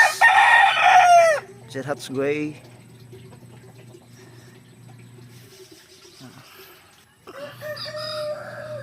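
A gamecock brood rooster crows loudly up close, followed by clucking and a second shorter call, with a person speaking briefly in between.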